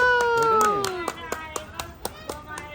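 A few people clap in congratulation at a family farewell gathering, with a sparse run of distinct close hand claps while voices talk over them.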